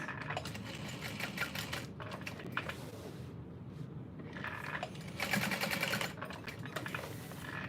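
A sewing machine bastes tote bag fabric in steady bursts of close, rapid mechanical stitching, briefly pausing midway before running again, with no talking.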